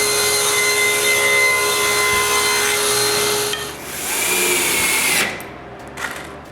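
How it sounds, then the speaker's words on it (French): A power saw rips a wooden board to width, its steady high whine and cutting roar running loud and close, dipping briefly mid-cut before resuming and then spinning down to quiet. "Je commence par fendre la planche à la bonne largeur."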